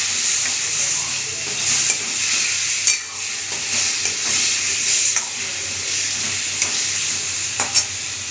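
Potato and poppy-seed curry sizzling hard in a pan as water is added, a loud steady hiss of frying and steam with scattered stirring scrapes and spatters, no voices.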